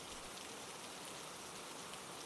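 Gentle rain falls steadily, a soft even hiss of countless drops with no voices or other sounds over it.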